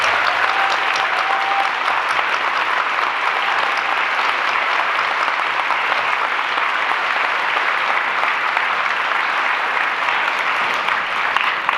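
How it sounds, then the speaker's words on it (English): School audience at a Take A Veteran To School Day event giving veterans a sustained round of applause, a loud, even wall of clapping lasting throughout. "Let's give all of our veterans one more round of applause."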